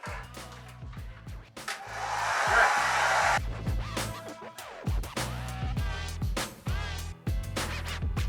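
Hair dryer blowing steadily for roughly two seconds mid-clip while drying curly hair, loud and close, surrounded by handling noises, rustles and short thuds before and after.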